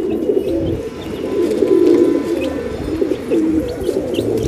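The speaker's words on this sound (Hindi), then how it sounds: "अभी पेठी वाले कबूतर खोल लिया मैंने और लॉफ वाले कबूतर भी खोल लिया।" Pigeons coo steadily and close by in an opened coop, a continuous layered chorus of soft throaty calls with faint chirps behind and no talk.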